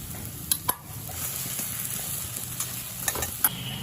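Chopped cashews and raisins fry in the potol dolma filling as a spoon stirs the pan, a soft steady sizzle with a few sharp metallic clinks and scrapes, close and fairly quiet, no voices.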